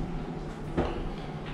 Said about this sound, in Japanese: ドアが閉まります。 Doors are closing。